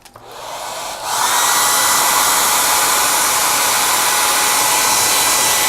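A hair dryer blows to dry paint, starting up and rising to a loud, constant, close whooshing roar that holds steady to the end.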